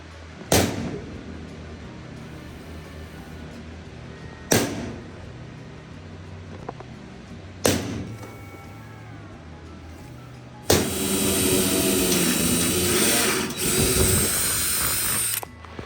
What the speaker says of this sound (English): Now he's gonna punch them, and I'm gonna drill them.